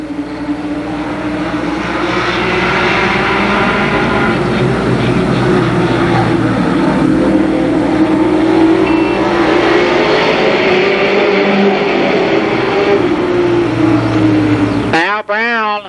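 Race cars roar past at Columbus Motor Speedway during an eight-lap race, a loud continuous engine drone with shifting pitch that ends in an abrupt cut and brief sweep.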